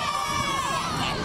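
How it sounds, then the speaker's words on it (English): Thousands of schoolchildren at a minor-league baseball game on Education Day shriek and cheer in a high, continuous roar that fills the ballpark. "They're helping cheer on those Indians today for Education Day in the ballpark."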